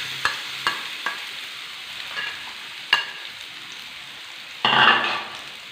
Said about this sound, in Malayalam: ഇനി ഇതേ നെയ്യിലേക്ക് തന്നെ നമ്മൾ നേരത്തെ കട്ട് ചെയ്ത് വെച്ചിട്ടുള്ള നമ്മുടെ ഒരു നേന്ത്രപ്പഴം ഇതിലേക്ക് ഇട്ട് കൊടുക്കാം